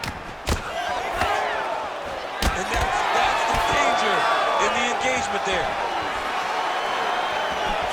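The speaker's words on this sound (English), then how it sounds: "you're hearing the oohs and the ahs from the crowd" A UFC 5 video game fight with the virtual crowd letting out rising oohs and ahs, under a commentator talking, with a couple of sharp thuds from landed strikes.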